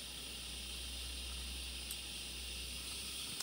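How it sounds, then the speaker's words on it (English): Steam hisses steadily from a La Pavoni Europiccola lever espresso machine building pressure for frothing. The hiss is continuous and even, close and moderately loud throughout, with no voices. "Now we have a lot of steam, so we're ready to froth."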